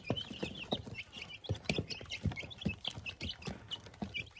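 Two-week-old chicks cluck and cheep busily while feeding on fresh feed in a brooder, a dense, continuous chorus of many close peeps and short clucks with rhythmic pecking taps underneath.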